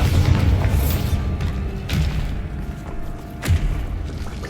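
Bombarda exploding spells from Hogwarts Legacy land as heavy thuds and booms, a few spaced impacts over a loud, continuous rumbling game background.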